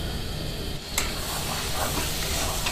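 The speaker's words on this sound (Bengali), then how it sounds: "এভাবে 3 থেকে 4 মিনিট ধরে কষিয়ে নেব" Bottle gourd frying with spices in a pan, a steady close sizzle with stirring scrapes running throughout, no talking.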